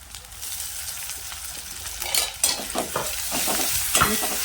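Two finely chopped tomatoes hit a pan of ginger and garlic for a chole masala and sizzle steadily while being stirred, with a few louder scraping strokes near the end and no talking.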